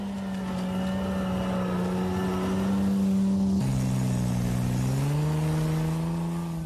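Spartan tracked armoured transporter with a Jaguar 4.2-litre engine drives close by, a loud steady engine drone that drops in pitch midway and then climbs again as it speeds up, with no voices.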